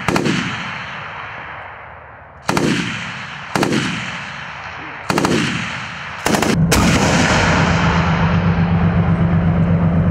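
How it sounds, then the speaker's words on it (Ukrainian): Heavy artillery and machine gun fire at a military training range: a series of loud, sharp blasts with long rumbling decays, then a sustained burst of rapid automatic fire, heard close and without any talk. "Стріляють з усього, автомати, кулемети."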